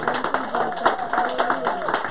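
A church congregation claps in praise, a steady stream of rhythmic handclaps under a singing or preaching voice that carries over the top throughout.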